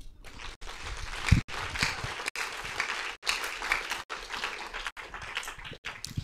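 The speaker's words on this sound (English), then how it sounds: "So can we clap for our city?" A crowd claps at the launch of a city cable car system, a fairly faint, uneven patter of hands with brief gaps.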